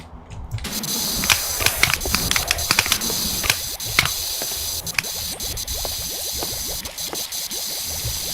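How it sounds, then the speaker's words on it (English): A pressure washer in Power Wash Simulator sprays steadily and loudly with a continuous hissing jet and small spattering, sputtering bursts throughout. "Just gonna spray all this real quick a couple times."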